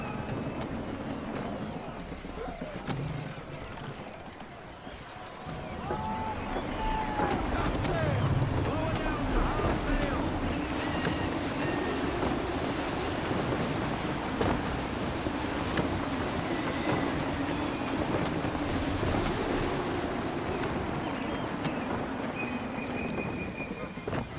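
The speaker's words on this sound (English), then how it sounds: "Wind looks to be shifting. Stay alert, Connor. Gusty winds can be difficult to manage." Gusty wind roars during sailing in the video game Assassin's Creed III, with a loud, steady rush of wind and water that swells slightly after the first few seconds and holds constant.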